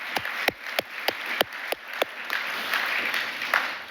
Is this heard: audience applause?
yes